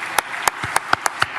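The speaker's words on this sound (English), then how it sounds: "So I'd like to give them a round of applause." About six sharp handclaps at a steady, sparse pace ring out from the audience at Tennessee Governor Bill Lee's signing of the Voyeurism Victims Act, honouring the victims.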